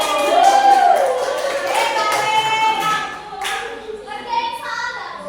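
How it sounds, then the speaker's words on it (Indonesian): A few people clap at the close of a short presentation, with sparse, uneven claps near the room and voices speaking over them. "tepuk tangan dulu"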